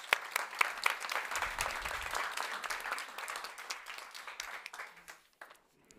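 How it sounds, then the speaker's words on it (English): Warm audience applause at a science summit, steady dense clapping from a large hall crowd that swells and then tapers off near the end, no voices over it. "We give Robert a warm applause."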